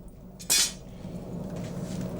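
Red-hot hand-formed copper cauldron body plunged into cold water: a sharp, loud hiss bursts out at once and dies away within a quarter second, leaving a low steady rumble of bubbling water.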